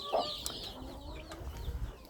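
Young chickens huddle under a heat lamp, letting out a few soft, brief clucks and chirps. The sounds are faint and sparse against a quiet background.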